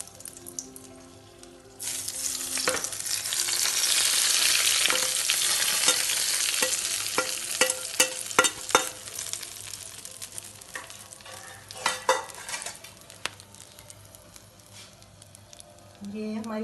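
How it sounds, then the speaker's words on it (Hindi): Hot tempering hits a creamy curd gravy with fried brinjal, erupting into a loud burst of sizzling that settles into crackles and spoon clinks, while someone talks over it. "ये देखें बघार मेरा तैयार है। बस अब इसके ऊपर हम डाल देते हैं।"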